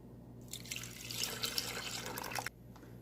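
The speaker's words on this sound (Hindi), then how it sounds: "थोड़ा सा दूध डालेंगे" Milk is poured into a blender jug over almonds as a short, steady liquid stream that runs for about two seconds, close and fairly quiet, with no talking.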